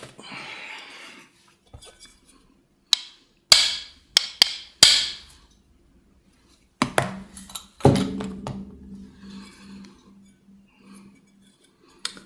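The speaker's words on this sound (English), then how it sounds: "I'm gonna give that a whack with the hammer just to make sure." Several sharp metallic strikes of a hammer on an airsoft Desert Eagle pistol slide ring out in a quiet space, scattered irregularly, with a few louder clanks and a brief lingering ring near the end.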